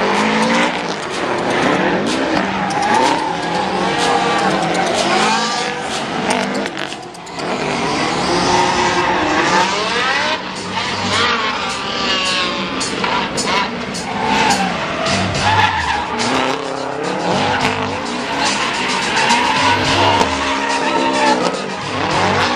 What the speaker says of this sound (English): the M5 V10 powered BMW